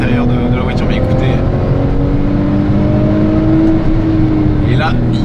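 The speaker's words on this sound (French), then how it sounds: "Bah écoutez ce moteur. Et on entend l'admission d'air." Porsche 911 Carrera GTS engine with a BMC air filter intake, heard from inside the car: a loud, steady engine drone with a throaty intake note that holds throughout, and a voice may murmur faintly underneath.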